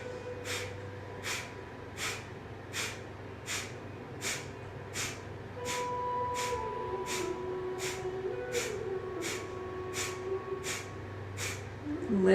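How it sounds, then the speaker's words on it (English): Rapid, rhythmic breath of fire during breathwork and yin yoga, sharp nasal exhalations pumped from the belly in an even train of about a dozen puffs, close and steady over a faint low hum. "breath of fire, pumping the breath from the belly"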